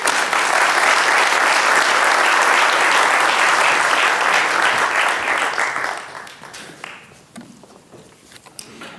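Sustained audience applause at a civic event hosted by a mayor, dense and loud for about six seconds, then thinning out to scattered claps and room noise.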